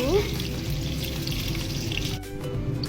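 Eggs for an egg curry fry in hot oil with a steady crackling sizzle close by, a continuous hiss without pauses.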